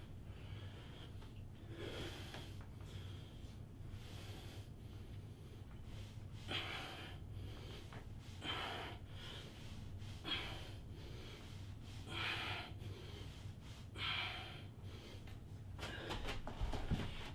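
Heavy, rhythmic breathing during a bodyweight workout of repeatedly going down and back up, with roughly nine close, steady breath bursts evenly spaced every couple of seconds.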